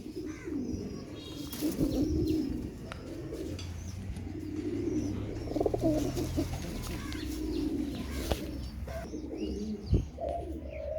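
A Teddy pigeon, a female, coos in low soft repeated phrases close by, with a few faint chirps from other birds in the background and no talking.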